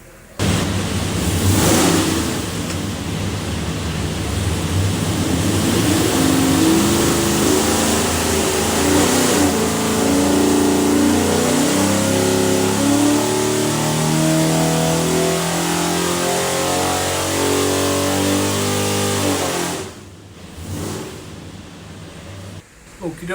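A 489ci big block Chevy V8 built for a '33 Ford runs hard on a dyno, a loud sustained roar climbing steadily in pitch for about twenty seconds before cutting off abruptly.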